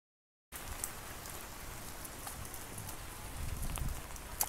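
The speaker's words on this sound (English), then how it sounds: "It's raining." Steady outdoor rain, a soft continuous hiss of falling drops with occasional louder patters, faint and even throughout after a brief silent start.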